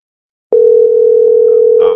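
A telephone line tone comes back after the phone restarts: one steady, loud, unbroken hum lasting about a second and a half, then cutting off abruptly.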